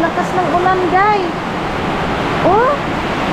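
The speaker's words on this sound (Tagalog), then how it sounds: "Grabe ang lakas ng ulan guys." Heavy rain pours down in a flooded marsh area, a dense continuous hiss like a waterfall, with brief voices rising over it.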